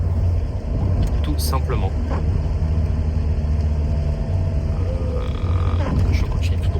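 A Renault Clio 2 engine while driving, a steady low rumble heard from inside the cabin, with someone talking briefly over it and some faint clicks and road noise.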